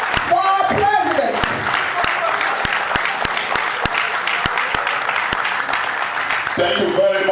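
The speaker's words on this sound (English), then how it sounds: "A round of applause for our president." A large crowd applauds the Nigerian president at a televised event, with loud, dense, sustained clapping under a faint musical tone.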